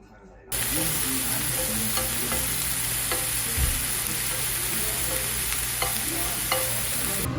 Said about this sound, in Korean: 지금 카레 소스, 그다음에 나는 익히고 있어요